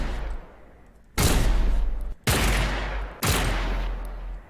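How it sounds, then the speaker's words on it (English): Pistol fire from Grover, a character in the game Paladins, sounds as three loud, close blasts about a second apart, each one a burst that trails off into a noisy rumble with no talk. "Here's the pistol fire."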